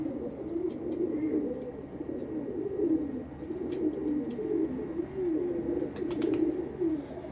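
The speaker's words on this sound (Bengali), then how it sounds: "এই যে আমার একটা পায়রা সকালে উড়িয়েছিলাম," A pigeon that was flown out in the morning is back at the loft, and steady low cooing rolls on in repeated phrases with a few faint clicks and rustles.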